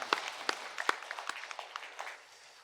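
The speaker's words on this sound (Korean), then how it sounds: "영광의 박수를 하나님께 드리겠습니다." Church congregation at a Sunday worship service offering applause, heard as scattered, fairly quiet claps that start sharp and separate, then thin out and fade toward the end.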